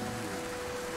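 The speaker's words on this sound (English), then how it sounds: "Oh, it's lashing rain." Steady lashing rain in the video game Morrowind, a dense even hiss with a low rumble, continuous and alone for a moment.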